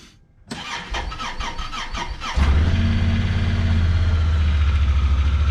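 A Honda Pioneer 1000-5 utility vehicle engine, after a spark plug change, cranks in rapid stuttering bursts for a couple of seconds, then catches and settles into a steady, loud idle.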